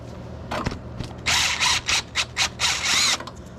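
Ratchet removing hardware during a teardown of a 1975 VW 1800cc engine: a few faint clicks, then a run of loud, rapid ratcheting bursts in a rhythmic series of about six pulses, close up.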